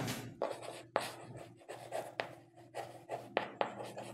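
A pen scratches across paper as a decimal number is written out in words during a class 5 maths lesson, in short, close, irregular strokes with sharp taps between them.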